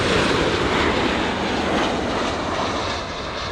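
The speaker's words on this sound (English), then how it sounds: "Next up to land, we have, who do we have? A Delta Airlines from Atlanta, flight 753, a 737 900 next generation." A Delta Air Lines Boeing 737-900 Next Generation comes in to land at LAX, a loud, broad engine roar that holds steady and then eases off slightly at the end, with no voices.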